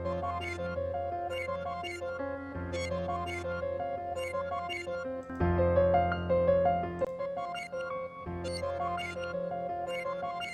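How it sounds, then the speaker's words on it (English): Piano preset with reverb in FL Studio playing a chord progression with melodic notes on top, clean and fairly quiet, the chords changing every couple of seconds and ringing into a soft wash of reverb. "here's how the piano sounds right now."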